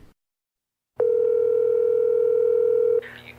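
A steady telephone line tone sounds loud and continuous for about two seconds while a number is being called, preceded by silence and ending in a faint click.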